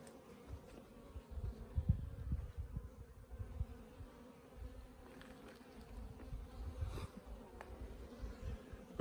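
Honey bees droning inside a thriving Langstroth hive, a steady low buzz close by with individual bees flaring louder now and then, no voices.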